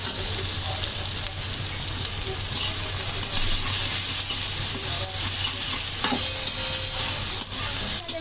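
Browned onion and ground garlic with a pinch of asafoetida frying in a pan for paneer bhurji, a continuous loud sizzle with irregular stirring scrapes throughout.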